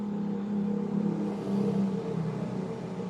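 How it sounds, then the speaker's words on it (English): Steady rumble of highway traffic with heavy trucks and buses passing, a continuous loud engine drone that swells and eases slightly without breaks. "there's a lot of vehicles that go down this highway"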